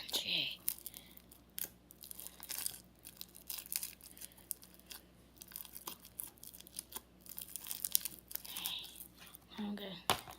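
Crunchy slime squeezed and kneaded up close, giving dense runs of crackling, popping crunches that come in bursts and brief pauses.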